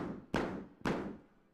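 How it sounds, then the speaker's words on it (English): A pillow struck by hand to make a game sound effect: two soft, muffled thumps about half a second apart, each with a short dull decay, close and alone. "He made this sound by hitting a pillow."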